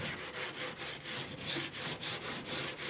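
A coarse scrubber rasps back and forth over the surface of a wood cook stove in quick, even strokes, about a dozen close scrubbing passes with no talk.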